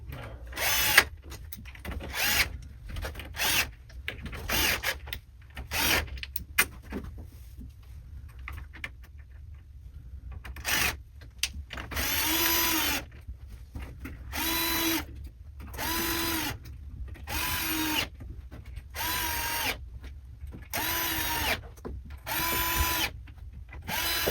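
A power drill drives bolts into a bed frame in repeated short bursts, each whirring run stopping abruptly, close and loud, with small pauses between tightenings.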